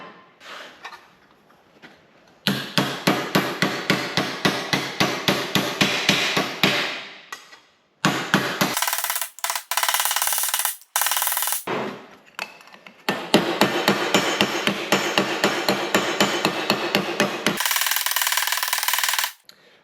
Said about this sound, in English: What I'm doing now is by hitting it metal on metal,